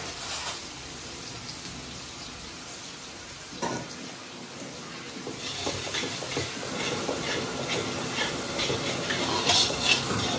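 Finely chopped onion and tomato frying in a pan, a steady soft sizzle and hiss throughout with occasional stirring scrapes, moderately quiet and close, with no voices.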